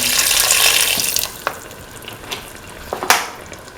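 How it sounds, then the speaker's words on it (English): Water poured into a chili duck mixture in a cooking pot, a steady splashing rush for the first second or so, then quieter with scattered clinks and small splashes of stirring. "Now pour in another 250 ml of water."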